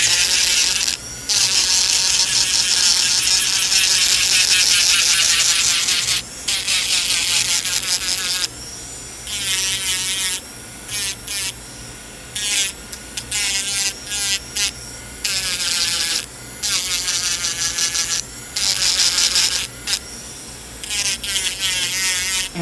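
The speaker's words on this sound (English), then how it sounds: "It's just taking off, lightly buffing the layers of gel that have been applied." An electric nail file buzzes in a high, whining drone as it buffs gel polish layers off acrylic nails, running in long stretches broken by brief pauses and slight changes in pitch.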